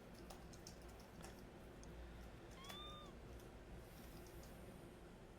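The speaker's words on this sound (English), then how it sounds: "I heard like a kitten meow" A kitten gives one brief, faint meow, rising then falling, over a quiet room with soft computer-keyboard typing clicks.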